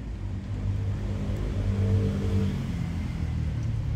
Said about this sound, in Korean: 오토바이 소리, 오토바이 소리.